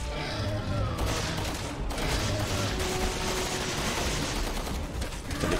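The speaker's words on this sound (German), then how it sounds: "Ich gebe ihm auch nur ein paar Schüsse mit meinem Sturmgewehr." Assault rifle gunfire and combat noise from the video game Resident Evil 6 form a dense, continuous burst of shots and booms throughout, at a moderate level.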